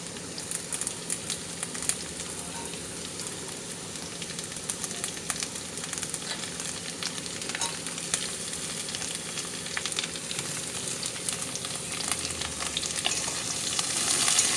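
Potatoes, onions and green chillies frying in a pan, a constant dense sizzle with frequent stirring scrapes and crackles, close and continuous, growing slightly louder toward the end.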